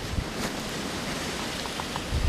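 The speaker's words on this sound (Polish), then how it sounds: "ten wiatr za silny za silny" Strong winter wind at beehives roars steadily across the microphone, a broad rushing noise with occasional low buffeting thumps that swell toward the end.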